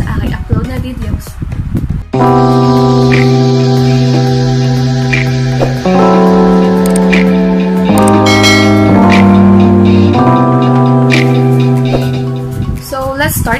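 A bell-like notification chime sound effect plays loud and clear: a sequence of sustained, ringing tones that shift pitch in a short melodic pattern for several seconds.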